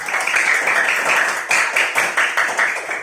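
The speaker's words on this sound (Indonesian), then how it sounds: "Tepuk tangan untuk Aska dan Salsa" Classroom of students clapping for two classmates, a steady burst of many hands applauding together for about three seconds, close and fairly loud, with no talking over it.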